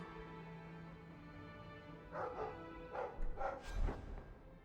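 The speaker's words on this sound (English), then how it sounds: "Shut up, dog." A dog barks in the video game Dragon Age 2, a short run of soft, muffled yips and woofs over a steady low game ambience, fairly faint.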